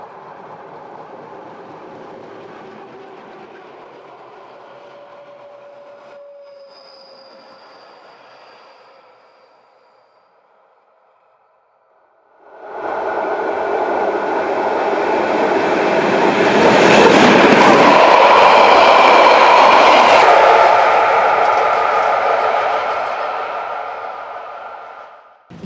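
A Rhaetian Railway Ge 6/6 I Krokodil locomotive hauls a train across the Hinterrhein bridge, first a faint distant rumble, then a loud, close, sustained roar of wheels and rails.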